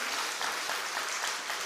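Congregation applauding during a Sunday church service, warm steady clapping from many people filling the sanctuary, brief and even.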